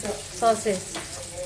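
Chicken meat frying in hot oil in a home kitchen, a soft steady sizzle with faint crackles and a brief scrape of stirring, fairly quiet and close.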